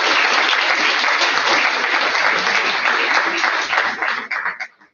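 An audience gives loud, dense applause to teachers at a book presentation. The clapping stays steady for about four seconds, then thins into a few scattered claps and stops.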